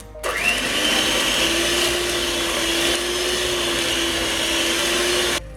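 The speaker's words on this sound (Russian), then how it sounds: "Добавляем сюда желтки. И опять хорошо взбиваем." An electric hand mixer whips cake batter with egg yolks and vanilla, a steady motor whine with a constant pitch that runs loud and close for several seconds, then cuts off abruptly at the end.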